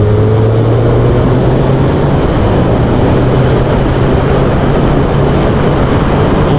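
A new Suzuki Hayabusa sport motorcycle, rated at 190 bhp, revs hard as it accelerates, giving a loud continuous engine roar with a steadily rising drone and no speech over it.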